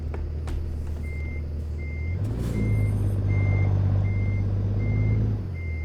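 In the American Truck Simulator game, a truck reverses with a steady series of evenly spaced reversing beeps over a low, rising diesel engine rumble, with a brief air hiss partway through.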